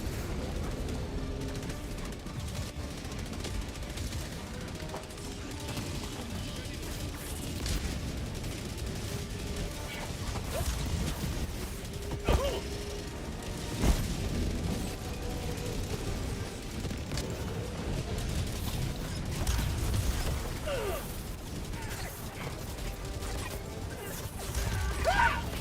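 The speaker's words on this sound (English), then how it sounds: "they're shooting me through the wall" Enemies fire guns in the co-op shooter Helldivers 2 on its hardest difficulty, with bursts of gunfire, crashes and impacts over a dense, loud battle din. No voices are heard.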